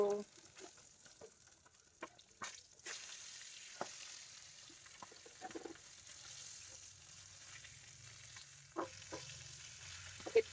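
Fish fries in a pan, sticking and scorching on the skin side, a faint low sizzle broken by scattered scrapes and clatters of a utensil, with a voice briefly heard in the background.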